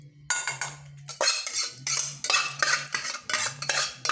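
Cooked amaranth greens are scraped from a pan into a steel bowl, making a series of close metallic clanks and scrapes in an uneven rhythm, with a low hum underneath and no talking.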